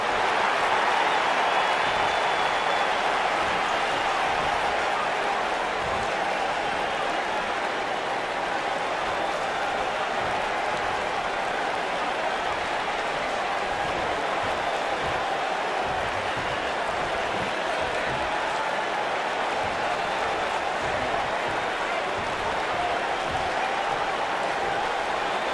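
A large wrestling arena crowd at a WWE event fills the space with a steady, dense roar of cheering and murmur that holds at an even level for the whole stretch, with no clear single voices standing out.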